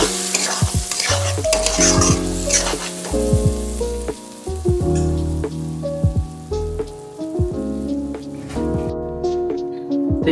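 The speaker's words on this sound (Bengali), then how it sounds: "দইটাকে ভালো করে মিশিয়ে দিতে হবে।" Yogurt is stirred into a pointed gourd (potol) curry in a pan, a steady wet sizzle broken by repeated scraping and clacking of the spoon against the pan, with no voices.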